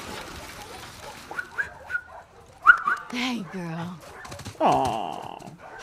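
A dog in The Last of Us Part 2 whimpers and yips in short bursts alongside a person talking to it, fairly close and clear.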